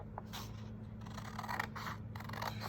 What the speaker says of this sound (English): we are going to take our scissors and we're going to cut along this side here